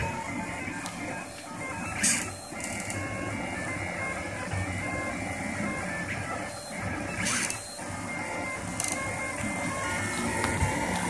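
A Rostock Max 3D printer works on a skeleton figure, its stepper motors whirring in a steady, layered mechanical drone close by, with occasional brief sharper movement bursts and no talking.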